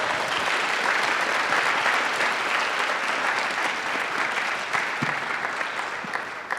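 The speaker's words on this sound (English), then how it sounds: "Let's give a big round of applause." Audience at a panel on mindfulness in education gives a full round of dense, sustained applause, a continuous wash of clapping hands holding steady throughout and easing slightly toward the close.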